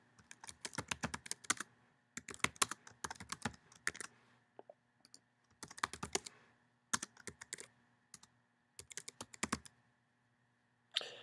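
Someone types a group name on a computer keyboard in quick bursts of crisp key clicks separated by short pauses, close and clear with no talk.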